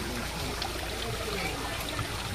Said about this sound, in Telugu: స్పష్టంగా వస్తున్నాయి నీళ్ళు కదా తేటగా స్పష్టంగా వచ్చాయి నీళ్ళు